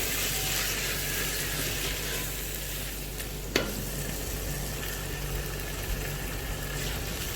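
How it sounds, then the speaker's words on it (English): Steady sizzling of chicken biryani ingredients frying in a pan, with a sharp clink of a utensil partway through; close and continuous, no talking. "So now this has to be fried well."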